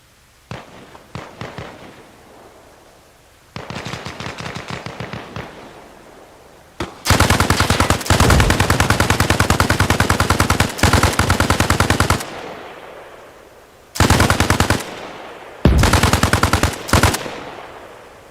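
Arma Reforger firefight with long bursts of loud, close automatic rifle fire and sharper single shots, broken by short pauses between the volleys.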